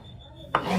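A knife strikes once through fish on a cutting board while it is sliced into bite-size pieces, a single sharp close chop after a quiet moment.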